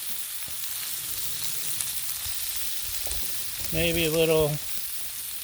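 Vegetables sizzle steadily in ghee on a flat griddle, a constant close hiss of frying throughout, briefly joined by a short spoken phrase near the end.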